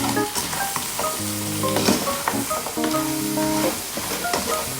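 Sauce is stirred into spicy salted fried chicken wings, giving a loud, continuous sizzle and frying crackle broken by repeated utensil scrapes and light clinks against the pan.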